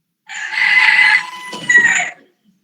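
A rooster crows once nearby, a loud drawn-out call that breaks into a second rising burst and then stops, with no other sound around it.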